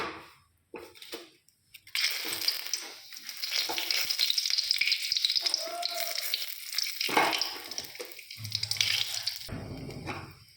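Garam masala, bay leaf, chopped ginger, cashews and raisins drop into hot oil, bursting into a loud, crackling sizzle that runs for several seconds with stirring and clatters, ending in a short burst.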